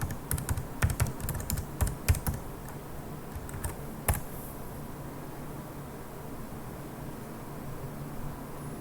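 Quick bursts of keystrokes on a computer keyboard as a password is entered, close and crisp, several clustered clicks then a final firmer press before quiet room hiss.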